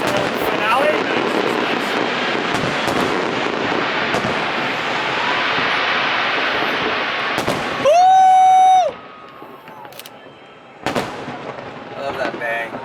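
Fireworks from Team Quebec at the Honda Celebration of Lights festival in Vancouver rumble and crackle loudly under a crowd and nearby voices, with a sharp whistling tone midway and a few later bangs.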